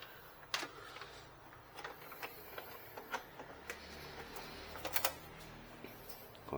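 A Canon IX6770 inkjet printer, fitted with an external ink bottle supply, powers on after being plugged in, producing faint, irregular mechanical ticks and clicks over a quiet background.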